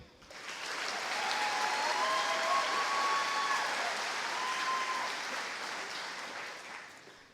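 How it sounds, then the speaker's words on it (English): Clapping fills a graduation ceremony as a second honoree is recognized, a sustained crowd of hands rising and fading smoothly, with a few faint whoops or cheers riding on top. "Feel free to applaud after each."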